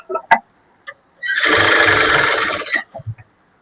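A sewing machine stitches along the lining of a blouse, running in one steady burst of rapid, loud mechanical whirring and clatter for over a second, with brief clicks and handling sounds before and after.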